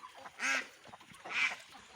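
Ducks on a farm near a pond call out in two distinct, fairly loud honking quacks about a second apart, with quiet background noise between them and no talking.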